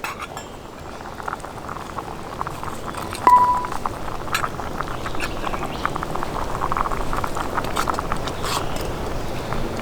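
Mexican chicken and rice bubbling and simmering in a pot on an alcohol stove with a small stand outdoors, a steady soft boil with faint clinks and crackle, no talk.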